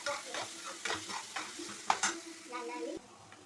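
Onions and tomatoes sautéing in a pan for radish sambar, with a soft steady sizzle and repeated scraping stirs of a spoon against the pan, close and fairly quiet.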